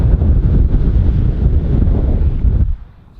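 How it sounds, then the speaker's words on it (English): Heavy wind buffeting the microphone in a loud, rumbling roar that cuts off abruptly near the end, leaving near quiet. "I'd like to film outside right now, but it is extremely windy."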